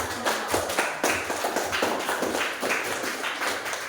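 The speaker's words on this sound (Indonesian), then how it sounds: "Beri tepuk tangan" Hands clap in a steady, even rhythm in a classroom, sharp distinct claps repeating about twice a second, close and fairly loud with no talking over them.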